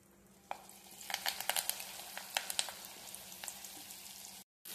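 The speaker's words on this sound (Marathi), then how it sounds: "आता ही भेंडी आपण ह्याच्यामध्ये टाकणार आहे." Okra drops into hot oil mixed with red chili powder, and soft oil quickly turns into a crackling sizzle with bursts of spitting pops. It stays fairly quiet and close, then cuts off briefly near the end.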